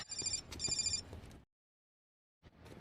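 A telephone bell rings in two loud, closely spaced bursts in a Blade 3 film scene, then cuts to silence before a faint sound returns.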